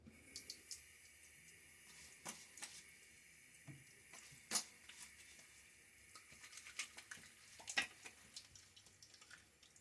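Running tap water wets a shaving brush at a sink, a soft steady stream with scattered drips, taps and patters of the bristles and bowl, close and quiet with no talking.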